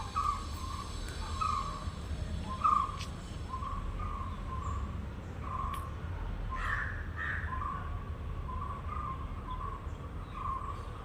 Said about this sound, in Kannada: ಪಕ್ಷಿಗಳು ನೋಡಿ ಸೌಂಡ್ ಮಾಡ್ತಾ ಉಂಟು.